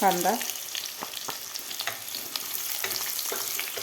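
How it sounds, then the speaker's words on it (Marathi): Chopped onion fries with cumin and bay leaves for Maharashtrian green pea rice, giving a close, crackling sizzle with scattered stirring scrapes throughout. "कांदासुद्धा आपल्याला थोडासा गुलाबी कलर होईपर्यंत आपल्याला परतून घ्यायचा आहे."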